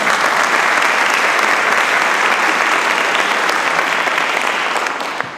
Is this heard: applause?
yes